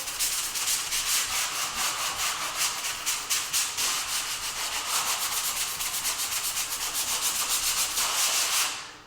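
A sanding sponge rubbed over drywall patched around screw pops, a close, steady rhythmic scrubbing of quick back-and-forth strokes that continues without a break before stopping.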